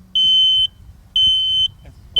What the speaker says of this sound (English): That's the sound of a smoke detector and the sound of safety.